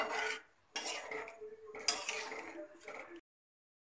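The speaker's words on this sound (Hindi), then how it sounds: "इसे हमें अच्छी तरह से मिक्स कर लेना है और 1 मिनट तक चलाते हुए पका लेना है" Chicken korma being stirred in a cooking pan, a spoon scraping and clattering in several short bursts separated by brief pauses, close and fairly soft.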